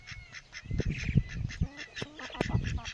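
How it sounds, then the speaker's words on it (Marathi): A single duck kept among a flock of chickens calls in a string of short, irregular quacks and honks at close range. "कोंबड्यातला बदक आहे."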